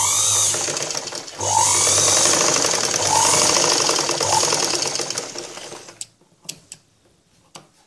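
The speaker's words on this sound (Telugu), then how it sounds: "ఇప్పుడు తాళు భాగానికి స్టిచ్చింగ్ చేస్తున్నాను." A sewing machine stitches a section of a cross-cut blouse in steady, loud mechanical runs with a brief pause, then stops near the end, leaving a few faint clicks of handling.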